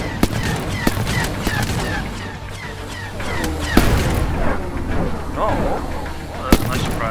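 Gunfire in the video game Freebooter, a series of sharp, loud shots at irregular intervals against a busy layer of game effects and background noise.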